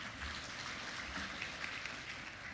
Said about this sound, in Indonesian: Aplaus dong untuk Pak Budi.